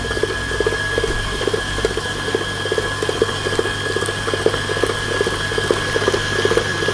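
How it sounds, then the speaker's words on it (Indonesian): An electric mixer beating cheesecake batter at higher speed, a steady whirring drone with a rhythmic pulsing churn that holds evenly throughout, no talking. "Naikkan speednya. Aduk kembali sampai semua tercampur dan merata."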